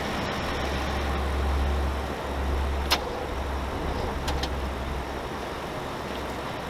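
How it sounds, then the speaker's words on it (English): An old car left idling after a jump start with jumper cables, a low steady engine rumble throughout, with a couple of short clicks and knocks over it and no talk. "we're gonna have to let her sit there and idle for a little bit"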